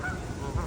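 Geese honk loudly and close by in a short burst at a busy waterside spot where herons are also present.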